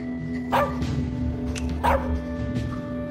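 A dog in the As Dusk Falls video game gives two loud barks followed by a softer yip, heard close over a steady low game soundtrack drone.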